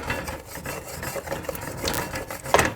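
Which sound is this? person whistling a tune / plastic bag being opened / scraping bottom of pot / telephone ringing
scraping bottom of pot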